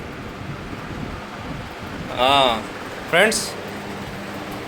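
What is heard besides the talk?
air cooler fan running after cleaning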